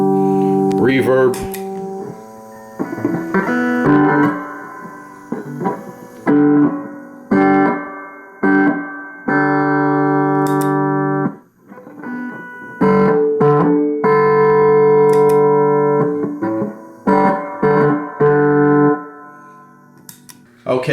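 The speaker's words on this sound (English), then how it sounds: "Reverb." An acoustic guitar through a Marshall AS50 acoustic amp with reverb engaged, playing a series of strummed chords and short phrases that ring out and decay between gaps, loud and close.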